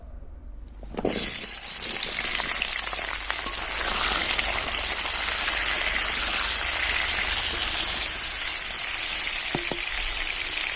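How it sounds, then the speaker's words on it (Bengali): Elephant foot yam pieces drop into hot white oil in a kadai and erupt into a loud, steady sizzle that holds for about ten seconds, with faint clinks near the end. "প্রথমে আমি সাদা তেল দিয়ে ওলগুলোকে একটু ভেজে নেব"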